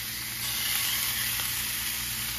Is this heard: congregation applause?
no